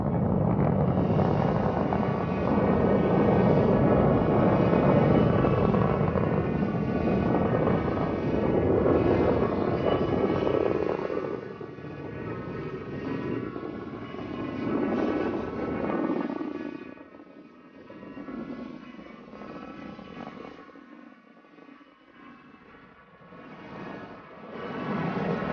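Deep rumbling roar of the Cassini mission's rocket launch bound for Titan, a loud, broad wall of low bass that swells at first and then slowly fades and wavers into the distance.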